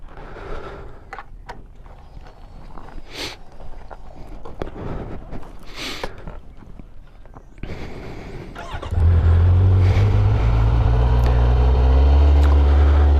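A motorcycle engine with stock exhaust cranks and catches about nine seconds in, then settles into a steady, loud low rumble; quieter shuffling and handling noises come before.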